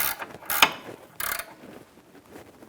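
An 18mm ratchet wrench turns a sway bar link nut on a 2009-2014 Nissan Maxima, giving two sharp bursts of rapid pawl clicking between quieter handling noises, close and distinct; no one speaks.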